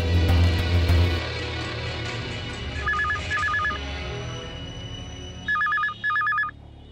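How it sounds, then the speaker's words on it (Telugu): A telephone rings in short electronic bursts, two quick trills near the middle and two louder ones toward the end, over a low background hum in a film scene. "కెమెరామెన్ జగదీష్ కు ఫోన్ చేయి."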